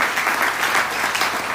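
A church congregation applauds loudly for Jesus during a Sunday service, a dense, steady wash of clapping from many hands, close and full throughout with no voices over it.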